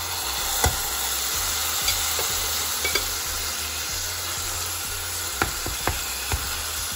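Tomatoes going into a hot pan with garlic, a steady soft sizzle of frying with a few light stirring clicks and scrapes, fairly quiet and continuous throughout.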